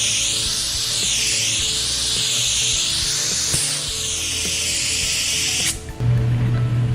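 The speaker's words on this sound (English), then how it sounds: "you can spray this as thick or as thin as you need to" A spray gun applies SEM Sound Seal sprayable coating with a steady, close hiss of atomized spray that holds for nearly six seconds before cutting off and giving way to a low hum.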